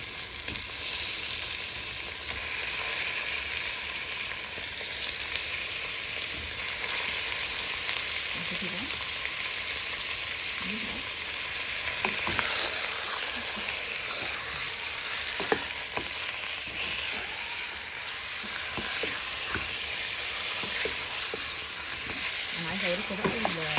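Minced meat fries with browned onions in a pan, a constant close sizzle with scattered crackles and a few stirring clinks over about twenty seconds.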